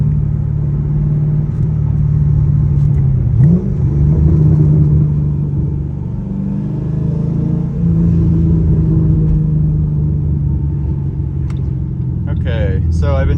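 Ford Mustang with a suspected misfire driven at higher RPM and then let off the throttle for engine braking, a steady low engine drone that rises and falls, with talk over it throughout.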